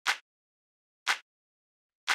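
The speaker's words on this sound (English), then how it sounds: "So then the last drum that I have here is this clap" A clap drum sample for music production, a simple hand-clappy hit, plays three times at a steady one-second interval, each burst short and bright with silence between.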